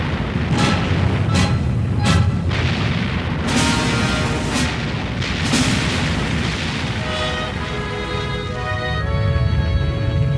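Heavy naval guns of an Iowa-class battleship fire during shore bombardment, several loud booming blasts in quick succession early on, followed by rumbling reverberation and a lingering low roar.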